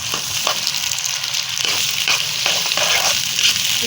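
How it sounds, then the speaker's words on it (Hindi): Sliced onions frying in hot oil in a karahi, a steady close sizzle with intermittent stirring scrapes and crackles, no voices. "कढ़ाई में हमने तेल डाले था, उसमें प्याज डालेंगे।"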